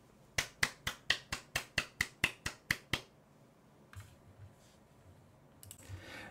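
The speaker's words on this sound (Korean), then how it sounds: "지향각 반대 방향에서 박수를 치면 이 정도입니다." About a dozen quick, evenly spaced hand claps from behind an EPOS B20 microphone set to cardioid, faint and thin, followed by quiet rustling.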